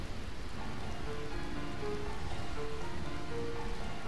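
Rain falling in the Final Fantasy IX video game, a steady, fairly loud hiss of drops on surfaces with faint, soft musical tones sustained in the background and no talking.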